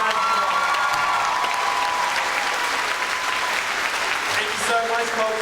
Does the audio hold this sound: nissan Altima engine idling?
no